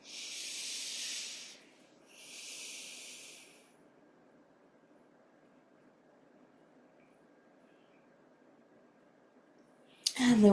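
Two long, slow exhalations hiss out during a yoga practice, steady and close, followed by quiet room tone and a short burst of voice at the end.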